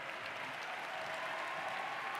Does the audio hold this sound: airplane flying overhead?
no